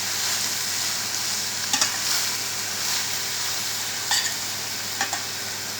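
Chicken chowmein noodles stir-fry in a pan with crispy vegetables, giving a strong, constant sizzle broken by a few sharp utensil scrapes and clinks as they are tossed.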